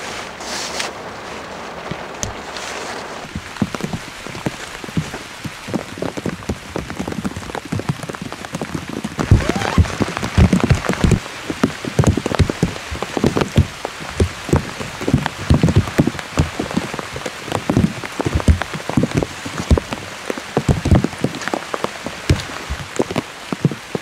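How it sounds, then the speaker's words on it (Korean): Heavy rain falls on a dog-friendly campsite, drops pattering densely and unevenly on surfaces near the microphone, growing steadier and louder after the first few seconds with no talking. "오늘 좀 비가 많이 온다고 했거든요"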